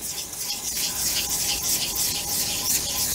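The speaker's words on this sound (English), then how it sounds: "as you can see, I'm sanding over it." Steady, continuous sanding over a painted motorcycle fuel tank, a bright scratchy hiss, close up, rubbing back and forth without pause.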